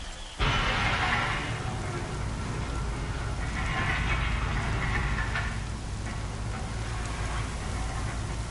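Steady rain in the video game Horizon Zero Dawn starts abruptly, then keeps up as a continuous broad hiss of falling water at a fairly even level throughout.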